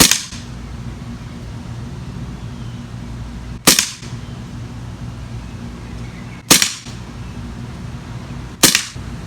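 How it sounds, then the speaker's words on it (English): A Beretta M9A3 CO2 BB pistol with blowback fires on full auto: four loud, sharp cracking bursts, spaced a few seconds apart, with quiet room tone between them. "It's got a nice kick to it for a CO2 pistol."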